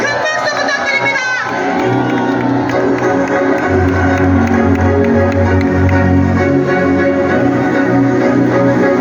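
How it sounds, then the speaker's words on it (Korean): A large crowd at an outdoor candlelight political rally near Gyeongbokgung roars with cheers, shouts and scattered applause, loud and continuous, with a steady tonal hum running underneath. "큰 박수 부탁드립니다."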